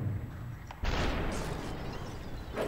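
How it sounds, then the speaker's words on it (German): A deep, booming explosion in the video game Superhot bursts out and rumbles on with a noisy roar, sounding like game combat effects. "Doch, der ist jetzt explodiert."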